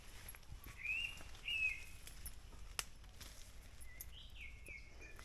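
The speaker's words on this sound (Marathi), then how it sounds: "पक्ष्यांचा आवाज बघ" Birds call faintly in a forest, a few thin, distant chirps and whistles spaced apart over quiet, hushed surroundings.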